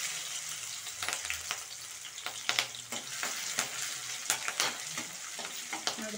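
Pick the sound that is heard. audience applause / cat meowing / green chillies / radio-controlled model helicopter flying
green chillies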